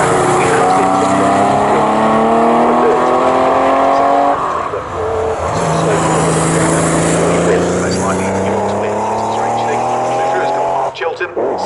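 Race cars lapping Snetterton circuit during a CSCC Future Classics race give a loud, continuous engine drone, with rising and falling pitch as the cars pass close by.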